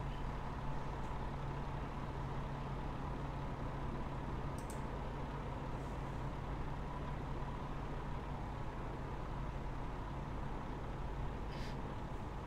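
A pushback tug hums with a steady, low, even drone as it pushes an airliner back from the gate in a flight simulator, with faint brief hisses over the constant engine noise.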